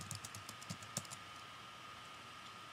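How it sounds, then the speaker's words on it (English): Typing on a Mac computer keyboard while entering a search: a quick burst of soft, close key clicks over the first second, then only faint room hiss. "So basically you just type the movie you want to download,"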